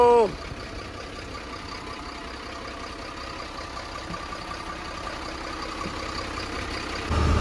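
A vehicle engine runs with a steady low hum throughout, and a brief voice speaks at the start before the drone swells slightly near the end.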